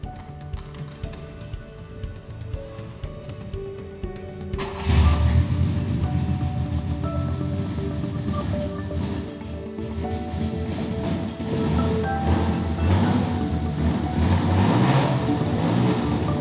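A Bizzarrini 1900 GTS Europa, a classic Italian sports car with a roughly 200-horsepower engine, is started nearby: a few quiet clicks and taps, then the engine catches with a sudden loud burst and settles into a rough, throbbing idle with occasional revs.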